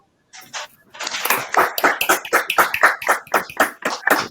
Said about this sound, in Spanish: pido un aplauso para todos nosotros